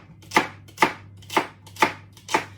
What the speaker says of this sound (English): now Dobby's going to take some celery and cut the celery